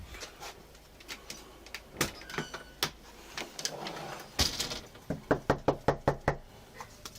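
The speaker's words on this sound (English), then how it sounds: "They knocked at the door, identifying themselves." Knocking on a house door at night, first scattered sharp raps and thumps amid background noise, then a quick, loud series of about eight firm knocks in steady rhythm near the end.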